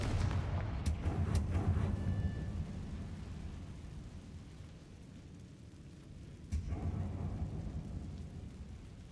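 Confringo fire spell blast in the video game Hogwarts Legacy, a deep booming impact early on and a second around the middle, each followed by a low rumbling tail.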